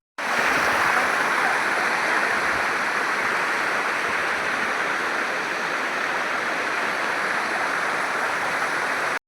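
The Bhagirathi waterfall at Vangani near Mumbai, swollen by monsoon rain, roars as a dense, unbroken rush of falling water, loud and close, holding steady throughout with no voices.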